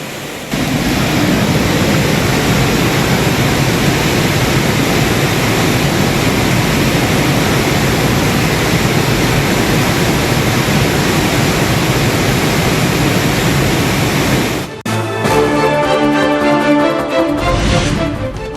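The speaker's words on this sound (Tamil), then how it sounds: "ஆதிரப்பள்ளி அருவியில் வெள்ளப்பெருக்கு." Athirappilly waterfall in Kerala in flood after heavy monsoon rain, a loud, steady roar of rushing water that holds unbroken for most of its length before a brief cut and a shift in tone near the end.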